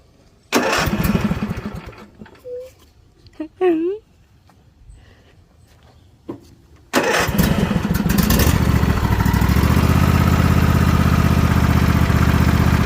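Craftsman riding mower engine after a spark plug change, starting with short coughing cranks between brief bursts, then catching and running steadily loud and close. A voice is heard during the start attempts.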